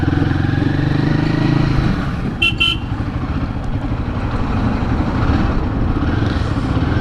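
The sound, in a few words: Royal Enfield Guerrilla 450 motorcycle riding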